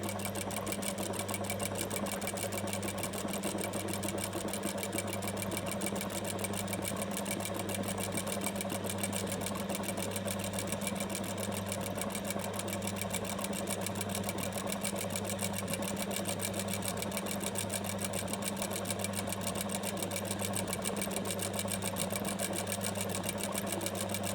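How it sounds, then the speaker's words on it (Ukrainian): Sewing machine stitching embroidery on a pillow, a fast, even mechanical whir with steady rhythmic clatter running continuously and close, no talking. "За допомогою швейної машинки можна робити такі чудеса і красоту"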